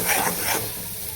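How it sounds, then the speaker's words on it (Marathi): Masala and chillies fry in a pan for a spicy vegetable gravy, giving a loud, close, continuous sizzle with busy stirring that eases slightly toward the end. "आता त्याला भाजून घेते मसाल्याला।"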